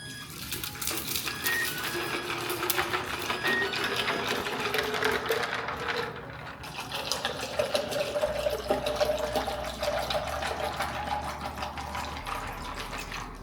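Water pours steadily into a container of Costco lemonade, a continuous liquid trickle and splash lasting over ten seconds with slight changes in pitch as it fills.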